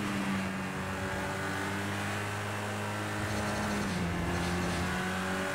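GT3 race cars in Project CARS 2 droning steadily with a sustained engine tone that shifts pitch partway through, loud and continuous throughout.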